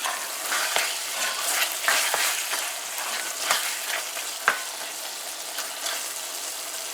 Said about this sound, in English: So now we're going to add the scallion towards the end. We give that a good mix.